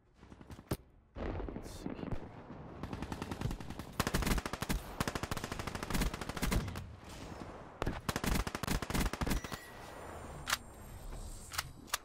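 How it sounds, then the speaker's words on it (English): A submachine gun with an extended magazine fires in Call of Duty: Black Ops 3. Loud, rapid automatic bursts come almost without pause, close and dense, and a few sharp single shots sound near the end. "I'm running around with a submachine gun that's like a light machine gun"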